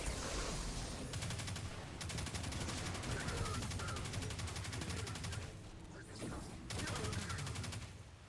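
Sustained rapid weapon fire in the video game Destiny, Black Armory activity, dense bursts hammering on with brief pauses, loud and close, with faint talk underneath.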